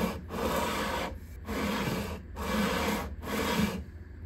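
Guitar neck on a 1953 Gibson L-50 being sanded with a 120 grit sanding block, four steady back-and-forth rasping strokes close up, with short pauses between them and no talk.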